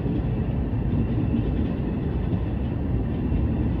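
A Long Island Rail Road train at Huntington Greenlawn station makes a steady low rumble and rolling wheel noise, close and continuous, with no talking.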